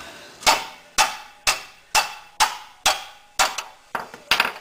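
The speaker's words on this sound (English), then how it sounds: "I'm going to put a wrench on and then hit the other end with a hammer" A hammer strikes the end of a wrench about nine times in a steady rhythm while replacing a ball joint on a Ford Escort/ZX2, each blow a sharp clang with a short ringing decay, close and alone.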